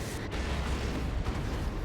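Loud, booming cannon blast from a Demolisher cannon in the Dawn of War 2: Retribution strategy game, a dense, rumbling burst of battle noise lasting under two seconds.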